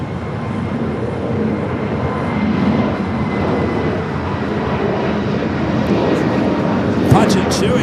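A Royal Air Maroc airliner takes off at LAX, its engine roar building steadily and loud, with people talking over it and a sharp knock near the end.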